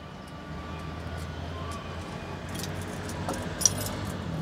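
Light metallic jingling of car keys, close and brief, over a steady low engine-like hum, with a Fiat 1100 D.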